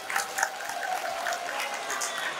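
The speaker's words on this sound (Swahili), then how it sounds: "Makofi mengi sana." An audience at a Tanzanian political speech breaks into applause, a dense, steady wash of many hands clapping that holds at moderate volume for the whole stretch, with no voice heard over it.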